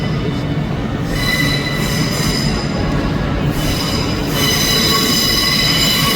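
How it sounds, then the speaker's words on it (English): A ScotRail passenger service from Neilston pulls into Glasgow Central station, its wheels squealing and grinding against the rails. The loud, steady rumble runs throughout with no speech. "arriving in over there is the 1331 ScotRail service terminating here from Neilston"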